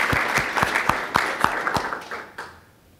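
Audience applause following remarks at an event on immigrant Dreamers, a burst of sharp claps with distinct individual hand strikes standing out, tapering off and fading near the end.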